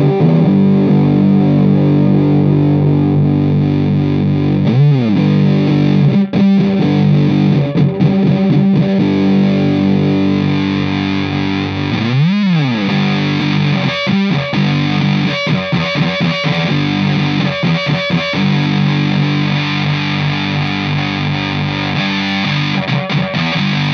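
A Danelectro French Toast octave distortion fuzz pedal driven by electric guitar, loud buzzy chords and sliding notes with a thick octave-up fuzz tone, sustained and gritty, punctuated by short choppy strums and pitch swoops, no voice.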